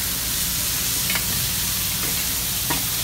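Seafood and meat for paella sizzle steadily in a pan, a continuous close hiss of frying with a couple of brief scraping stir sounds, no talking.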